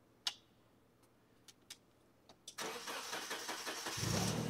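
A Hyster S60FT 6,000 lb propane forklift engine cranks after a few faint clicks, then catches and settles into a steady, close idle that grows slightly deeper.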